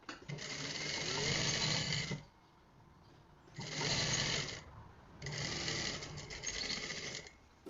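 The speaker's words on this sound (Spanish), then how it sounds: "Cosemos de acuerdo al margen de costura." A sewing machine stitches fabric along a seam allowance in three loud running bursts of about two seconds each, separated by short quiet pauses, with no talking.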